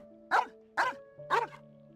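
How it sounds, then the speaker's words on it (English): A dog in the Genshin Impact video game barks three times in an even rhythm, crisp and close, over a low steady game hum. "What are you barking at?"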